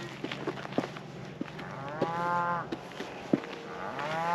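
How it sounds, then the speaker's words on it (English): Cattle mooing in the distance beside a roadside bar ditch after a Kansas wildfire, several drawn-out bellows from a herd overlapping and rising and falling across the field, with no talk over them. "You can hear the cattle in the distance."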